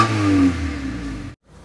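A 2000 Honda Civic Ferio engine revs hard and steadily at high rpm, loud and close, then cuts off abruptly into near silence at the end.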